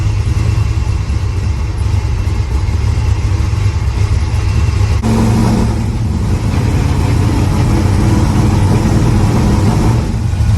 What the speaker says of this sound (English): It has a big cam in it, so it doesn't want to idle very well.